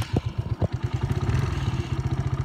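A 50cc quad starts on its starter button: a brief crank, then the small engine catches and settles into a fast, even putter, close and fairly loud.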